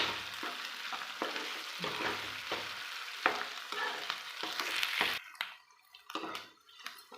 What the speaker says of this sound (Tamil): நம்மளுக்கு உருளைக்கிழங்கு இதிலே நல்லா வணங்கிடணும் அந்தளவுக்கு நல்லா கொஞ்சம் பொறுமையாக வணக்கிக்கலாம்